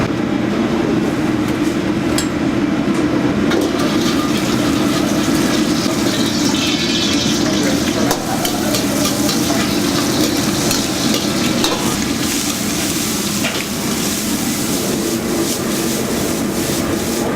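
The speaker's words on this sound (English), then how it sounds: "I'm gonna make a shrimp stir fry for you guys today" Shrimp stir fry sizzles loudly and continuously in a hot pan in a restaurant kitchen, with a dense steady hiss and occasional clanks of the pan and utensils, close and without speech.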